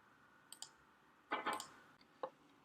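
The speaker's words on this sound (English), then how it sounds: "So I'll click on landers." A computer mouse clicks a few times at close range, crisp isolated ticks with one quick cluster in the middle, in an otherwise quiet room.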